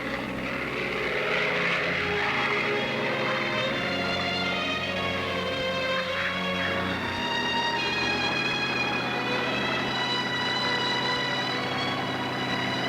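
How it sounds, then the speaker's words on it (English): A Grumman F8F Bearcat, a late U.S. Navy piston-engine propeller fighter, drones steadily and loudly throughout, its engine roar holding a constant tone with no voices over it. "Grumman's F-8F was one of the last propeller-driven fighters made for the U.S. Navy."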